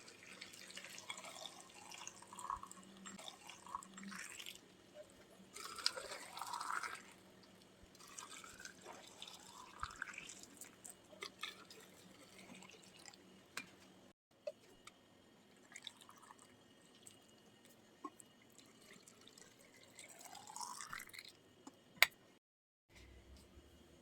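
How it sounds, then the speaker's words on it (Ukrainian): Boiling water from a kettle splashes and trickles steadily over tomatoes in glass jars, faint and continuous, with occasional louder gushes and a brief pause near the end. "Водичку я нагріла в чайнику і заливаю на 5 хвилиночок кип'ятком."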